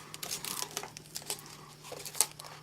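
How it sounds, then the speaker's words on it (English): Crinkly tape wrapping around a paper tube, close up, with irregular crackling and tearing bursts and no talk. "We're going to wrap some tape around it."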